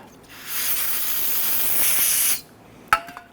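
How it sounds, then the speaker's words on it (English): Aerosol solvent sprayed onto rear brake parts of a 2006-2014 Honda Ridgeline, a steady loud hiss lasting about two seconds before cutting off, followed by a brief clink. "Go ahead and give that a spray with some solvent."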